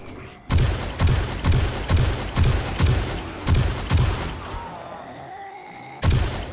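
Heavy gunshots fired at zombies in 7 Days To Die, about nine loud evenly spaced booming shots close up, a short pause with fainter ambience, then one more shot.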